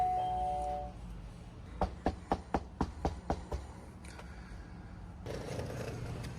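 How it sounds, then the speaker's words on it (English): A short electronic chime sounds, then a quick run of about eight sharp, evenly spaced clicks or knocks, followed by a low rustling hum. "We've rang his doorbell numerous times, and we're going to do it"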